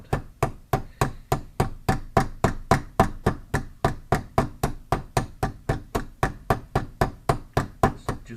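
Rivets are hammered in a fast, even run of about thirty sharp metallic knocks, close and loud, each with a short ringing decay, in a quiet room without talk.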